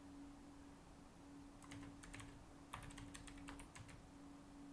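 Fingers tap out a quick burst of clicks on a computer keyboard, short irregular clusters of keystrokes over a low steady room hum, with no speech.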